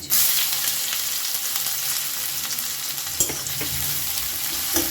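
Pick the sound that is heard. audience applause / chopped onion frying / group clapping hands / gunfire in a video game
chopped onion frying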